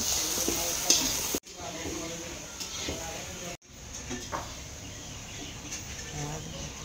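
Jilimili, an Assamese snack, frying in a pan: a soft, continuous sizzle with faint stirring, broken by two brief cuts, while a person talks over it.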